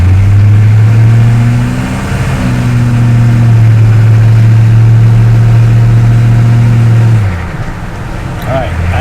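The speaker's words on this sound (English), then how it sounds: "You ever want to hear the exhaust get stuck behind a bus?" A GM 6.2 diesel truck with an aftermarket exhaust rumbles loudly at low speed behind a bus, its deep steady drone holding firm before dropping away near the end, while people talk inside the cab.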